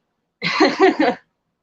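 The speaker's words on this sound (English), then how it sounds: "I apologize for the coughing" A short burst of three quick, close allergy coughs, loud and throaty, followed by silence.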